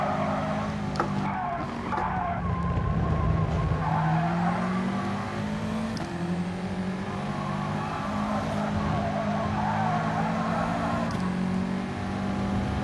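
Racing cars in the video game GT Sport, a Lamborghini among them, drone along with continuous engine noise and repeated tire squeal, moderately quiet and unbroken.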